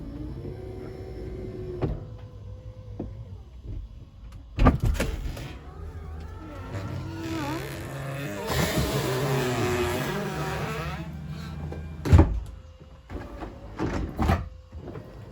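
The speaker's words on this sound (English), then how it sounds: "open the roof up" A Lexus SC 430 convertible's power roof opens with a steady electric motor whir and mechanical clunks, carrying a slight squeak and building to a sustained run near the middle, with sharp thuds as the panels latch.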